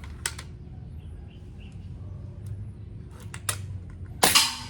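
A single sharp crack from a PCP airgun fired at a target, preceded by a few faint clicks in a quiet outdoor setting.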